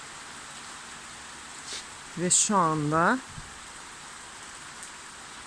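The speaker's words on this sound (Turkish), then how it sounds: "yağmur başladı" Rain falls steadily as a soft, even hiss through the whole stretch, with a brief spoken phrase breaking in near the middle.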